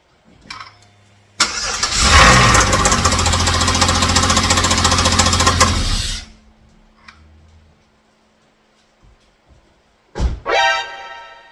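A car engine cranks and catches, running loud and rough for a few seconds before cutting out, followed by quiet and a brief second burst.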